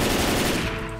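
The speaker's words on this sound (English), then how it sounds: "Gunshot." Loud burst of rapid-fire gunshots in Left 4 Dead 2, a dense automatic volley that tails off with a ringing echo near the end.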